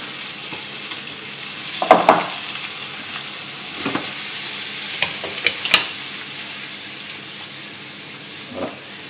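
Halved cherry tomatoes sizzle steadily in a pan of sauce while a utensil stirs them, with a few louder scraping knocks against the pan close up and no talking.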